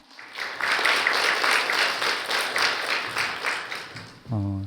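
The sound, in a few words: applause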